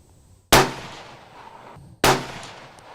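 Two loud rifle shots ring out about one and a half seconds apart while sighting in a riflescope, each a sharp close crack with a brief reverberating tail, over a quiet outdoor background.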